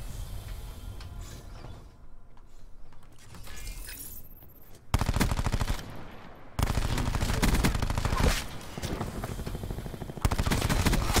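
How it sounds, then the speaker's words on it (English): Rapid SMG fire in Call of Duty Black Ops 4 comes in loud, sustained bursts after a quieter mechanical stretch of clanks and creaks, the dense automatic volleys dominating the second half. "Somebody's got stuck on their SMG. There he is, shooting my body again."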